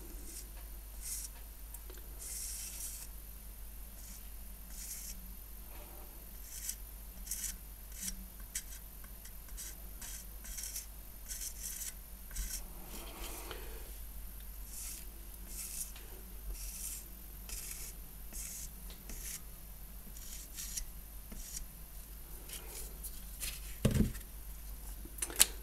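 A knife edge is drawn repeatedly across a HORL 2 diamond sharpener, giving faint, irregular scraping strokes over a steady low hum, with no voices.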